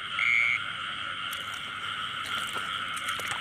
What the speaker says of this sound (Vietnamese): Ếch kêu quá kêu rồi.